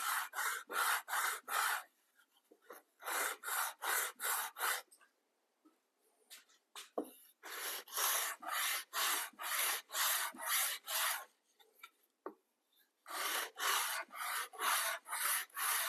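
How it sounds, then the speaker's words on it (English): A sanding block rubbed by hand across wood during a ride build, in steady rhythmic bursts of rasping strokes, close and fairly loud, with short pauses between runs of strokes. "Using the trusty sanding block."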